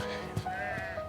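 A prize sheep bleats at a livestock show, giving a short, wavering, nasal call with a quieter second bleat behind it, heard close up with faint pen noise around it.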